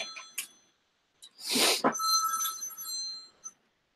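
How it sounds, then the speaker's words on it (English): A telephone bell rings in a short, sharp burst, then a sustained metallic ringing tone fades out, followed by a brief faint ding, with no voices. "And the God phone is ringing."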